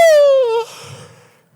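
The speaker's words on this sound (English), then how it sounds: "That was a yawn." A voiced yawn, close and loud: a drawn-out tone sliding downward that fades into a breathy exhale.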